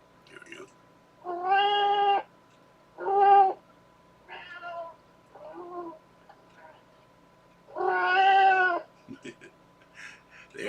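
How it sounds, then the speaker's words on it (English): Cats meow in separate drawn-out, tonal calls, several distinct cries spaced by quiet pauses, close and clear, with a faint steady hum underneath. "There are cats meowing."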